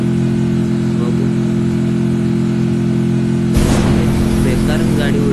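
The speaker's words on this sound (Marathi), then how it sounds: "बेकारच अशी गाडी चालवतो तो." A car driving in the video game Free Fire, its engine droning steadily at a constant hum, then a sudden rougher burst of noise as it surges or crashes, with a voice talking over it.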